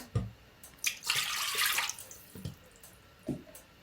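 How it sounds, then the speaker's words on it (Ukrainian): Water is poured into a small saucepan while making choux dough for eclairs, a short close splashing stream in the middle framed by a few light clanks and taps of the pan. "Беру каструльку, вливаю воду,"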